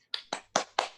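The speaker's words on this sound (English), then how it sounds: "Quick round of applause for your host." Brief burst of applause for a comedy show host: four distinct sharp claps spaced evenly across a second, close and fairly loud, with no talking.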